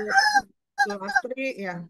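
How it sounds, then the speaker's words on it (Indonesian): A nearby chicken gives a loud clucking burst, then a voice speaks. "Ada suara ayam."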